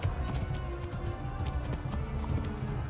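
Horse hooves clip-clop steadily at a slow riding pace in the medieval video game Kingdom Come: Deliverance, with rhythmic low thuds running continuously over ambient game sound and no talk.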